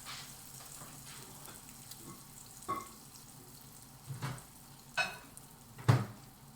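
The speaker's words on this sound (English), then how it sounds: "Bread's going to absorb all of that oil, and that's what makes the fried bread." Bread frying in a pan of oil for a full English breakfast gives a soft, steady sizzle, faint and close, with a few sharper crackles and pan knocks scattered through it.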